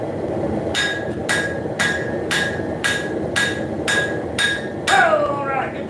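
A hammer forges a hot steel horseshoe, striking about nine evenly spaced, bright ringing blows close up. A final clanging hit trails off into a wavering metallic ring.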